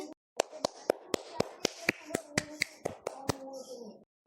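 A group of children at a classroom drawing competition claps in sharp, separate beats, about a dozen in a steady rhythm, with faint voices underneath.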